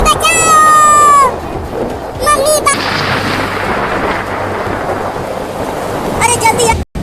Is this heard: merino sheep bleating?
no